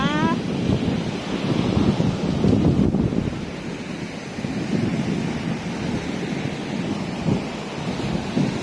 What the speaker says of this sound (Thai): น้ำทะเลมันซัดขึ้นมา